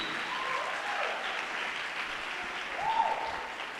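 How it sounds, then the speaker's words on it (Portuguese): Steady, dense applause from a church congregation during a Sabbath sermon, a continuous wash of clapping at moderate volume with a faint voice or two briefly rising above it. "Pode aplaudir o Senhor, aplauda mesmo, porque o sábado precisa ser aplaudido."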